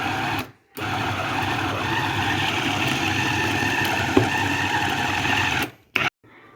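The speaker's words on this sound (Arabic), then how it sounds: "ها هي دابا نطحن المقادير كاملين مزيان" A food processor grinds chicken nugget ingredients with added cheese, a steady loud motor whir running almost without a break, cutting out briefly near the start and again just before the end.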